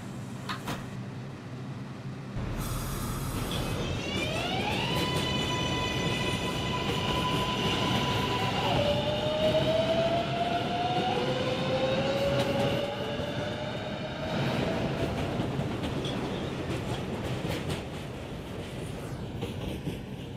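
New York City subway 6 local train running, with a loud steady rumble, rising and falling motor whine and screeching tones as it accelerates, continuing without speech throughout.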